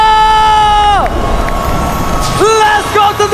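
Esports arena crowd at an ESL Snapdragon Pro Series Mobile Legends semifinal between RRQ and Team Liquid ID, roaring and cheering with rising horn-like tones and shouts, while a caster talks over the noise.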